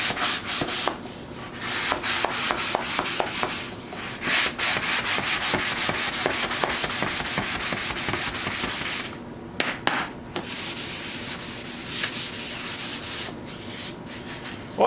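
Sanding block rubbed over a waterborne lacquer finish in a continuous rapid scrubbing rhythm, close and loud, with a brief break near the end before the strokes carry on.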